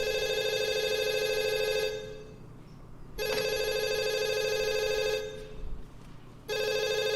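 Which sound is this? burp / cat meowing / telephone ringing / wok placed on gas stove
telephone ringing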